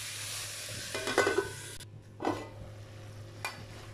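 Pumpkin pepper poriyal is stirred in a pan over a low flame: two bursts of spoon scraping and tossing with sizzling, a brief pause between, then a light tap, close and unaccompanied by speech.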